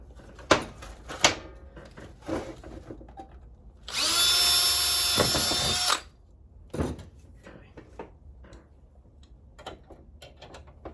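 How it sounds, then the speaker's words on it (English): A power drill bores through a trunk firewall panel for an LS-swapped 1968 Camaro, one loud steady whir lasting about two seconds, surrounded by scattered clicks and handling knocks before and after. "So now we have both panels drilled."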